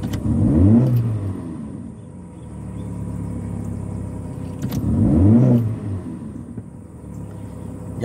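A car exhaust with a newly installed resonator rumbles at idle and rises in two loud revs several seconds apart, each with brief sharp pops, heard alone without talk.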